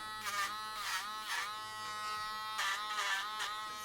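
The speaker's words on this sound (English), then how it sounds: "I'm going to take all of those harsh, sharp edges off with a Dremel." A Dremel rotary tool whines steadily as it files and smooths the freshly trimmed nails of a dog named Gypsy, the high buzzing pitch rising in a few short pulses as the tool touches each nail. No voices.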